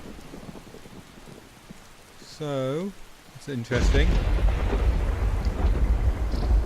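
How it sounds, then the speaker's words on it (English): Heavy rain pours and thunder rumbles in the video game Skyrim, a loud steady downpour with a deep roll building partway through, while someone briefly speaks over it. "And it's still pouring down with rain."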